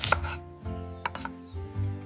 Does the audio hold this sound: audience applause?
no